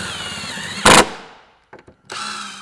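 A power tool drives bolts to attach a bracket onto an AEV tire carrier on a Jeep, reusing the factory hardware. One loud, short whirring burst is followed by faint mechanical clicks and a steady background hum.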